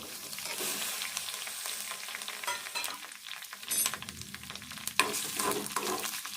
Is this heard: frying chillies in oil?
yes